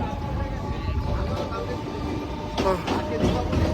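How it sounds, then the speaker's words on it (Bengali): A train standing at a railway platform in a station, with a steady rumbling mechanical drone, a few faint metallic clanks and a brief squeal, and voices murmuring in the background. "ট্রেন ধরলাম দৌড়ে দৌড়ে ট্রেন এসে দাঁড়িয়ে গেছিল"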